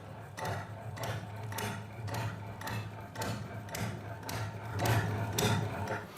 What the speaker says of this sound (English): this is Henry Ford's very first engine called the Kitchen Engine,